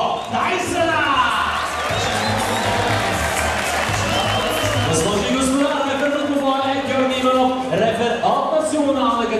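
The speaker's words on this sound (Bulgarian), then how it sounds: "Аплодисменти и за него." Crowd at a MAXFIGHT 38 boxing event in Varna applauds and cheers in a continuous, loud wash of clapping and voices, with an announcer speaking over it.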